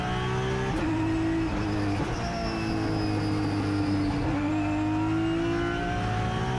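A race car engine drones steadily through a corner at Laguna Seca, heard from onboard with pitch sliding down and up under braking and throttle, with no voices.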